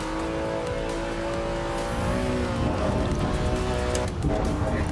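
Car engine in the racing game Assetto Corsa Evo, droning steadily and then rising in pitch as it accelerates, with tire and road noise underneath, played at moderate volume.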